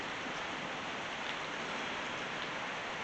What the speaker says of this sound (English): So, over here today at the farm, it's raining.